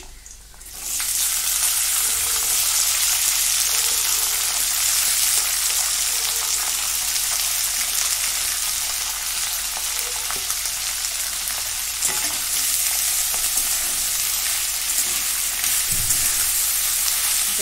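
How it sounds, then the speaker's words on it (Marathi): Red ghevda bean pods sauté in a hot pan with a loud, dense, steady sizzle that starts after a brief quiet opening and carries on almost unchanged, with a few faint scrapes and no voices. "जरा परतून घेते."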